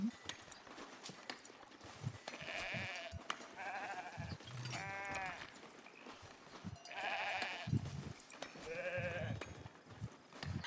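Goats in the Foundation video game bleat repeatedly with wavering, nasal calls, a few overlapping at moderate distance, over a continuous bed of game ambience with soft hoof-like knocks.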